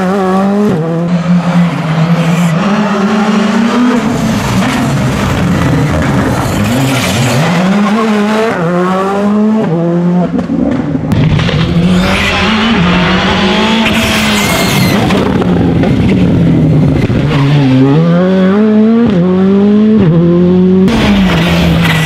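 Rally cars at the Rally dei Vigneti Monferrini race past with loud engines revving up and dropping through gear changes, tires squealing, one car after another close by.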